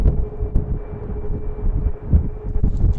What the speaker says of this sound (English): This is Copa Airlines 737 heading back to Panama City in Panama.